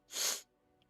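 One short, breathy sneeze bursts out nearby, followed by near silence.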